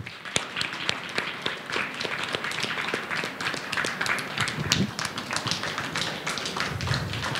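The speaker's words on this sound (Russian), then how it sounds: "Давайте похлопаем режиссеру." A discussion audience applauds a film director with steady, close clapping that is dense and continuous throughout, with a few faint voices underneath.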